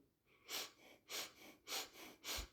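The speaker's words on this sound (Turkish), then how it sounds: "Burnumuzdan alıp ağzımızdan verelim ve bunu hızlı hızlı" Quick, rhythmic breaths drawn in through the nose and pushed out through the mouth, four airy bursts in about two seconds, close and fairly soft, with no talking.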